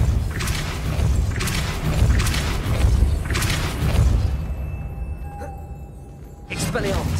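The Repulsor spell goes off in Hogwarts Legacy with a series of heavy booming thumps in the game mix, followed by a quieter gap and another impact near the end, with a voice talking over it.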